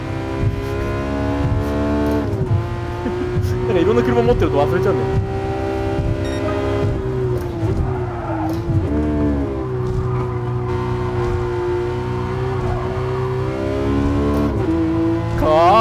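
Porsche GT3 RS engine in Gran Turismo Sport on a stock-style setup, droning steadily with shifting revs throughout, someone talking over it.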